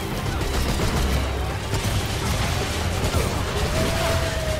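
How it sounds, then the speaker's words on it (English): Pistol gunfire in the video game Remnant 2, dense, continuous shots and impacts running without a break over a busy combat soundscape. "Shooting with my pistol."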